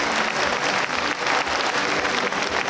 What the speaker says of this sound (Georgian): თუ ამაში მეთანხმებით, ტაში დამიკარეთ